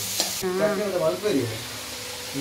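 Onions frying in hot oil for a chicken curry make a close, steady sizzle, with a brief clatter at the start and a stretch of voice-like sound over the frying.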